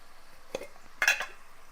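A spoon scrapes and clinks in a pan as coriander powder and garam masala are stirred into prawn pulao, two short quiet bursts of metal-on-metal stirring against near silence.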